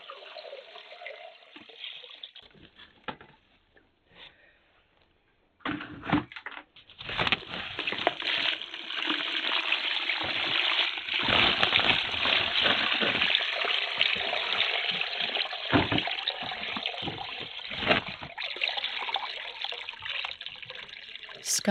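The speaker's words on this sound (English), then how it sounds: "Fresh, clear water is poured over large, dry clumps of clay, slowly filling them to the brim." Fresh water is poured over large, dry clumps of clay, a sustained trickling, splashing pour that starts faint and grows fuller and louder, running steadily for over ten seconds with small bumps and gurgles.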